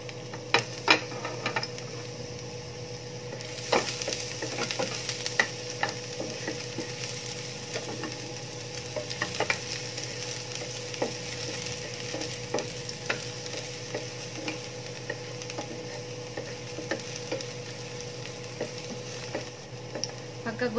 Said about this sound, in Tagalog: ilagay natin yung garlic